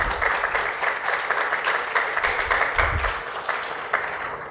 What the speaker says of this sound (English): everyone here ought to give Queensborough a round of applause for a job well done